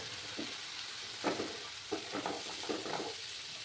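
Kashmiri chili powder masala frying and being stirred in a pan with a little water, a soft continuous sizzle broken by short scraping strokes of a spoon.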